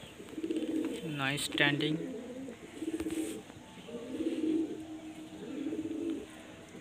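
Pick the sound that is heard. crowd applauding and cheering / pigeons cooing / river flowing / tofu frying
pigeons cooing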